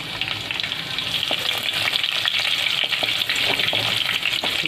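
Garlic and cumin seeds frying in a tablespoon of oil in a pan for takla bhaji, a steady loud sizzle with faint crackles, heard alone and continuous without voices.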